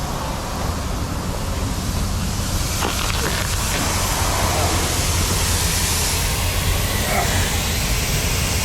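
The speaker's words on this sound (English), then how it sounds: "Yeah, he's got an air leak." Compressed air hisses from a leaking truck trailer brake hose chafed by a rubbing tank, a loud, continuous broadband rush that holds steady the whole time beside roadside traffic on Route 40 in Perryville, Maryland.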